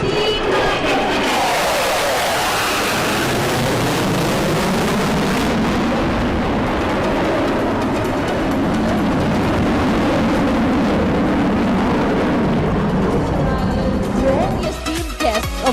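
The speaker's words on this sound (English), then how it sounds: "listen out for the deafening roar of the engines of the" Loud, continuous roar of fighter jet engines at an air force academy graduation parade, broad and rumbling for the whole stretch, rising and holding steady as the aircraft passes near.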